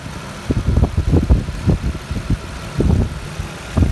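The engine of a 2008 Nissan Quest SE van runs with the hood open, a low uneven chugging rumble with pulsing bursts, close and fairly loud with no talk.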